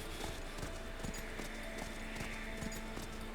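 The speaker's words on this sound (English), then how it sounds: "You could have just the horse through the desert here on loop." A horse's hooves clip-clop in a steady, even walking rhythm across desert ground in a video game, moderately close, over a dense, loud bed of ambient sound and music.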